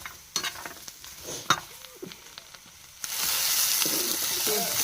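Spoon stirring a mixture in a pan after a little oil is added, with scattered scraping taps at first, then a steady sizzling frying hiss that rises and holds close and loud; no talking.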